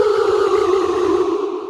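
A ghost sound effect from a Code Jumper play pod, one sustained eerie wavering moan, loud and close, holding steady before slowly fading out near the end.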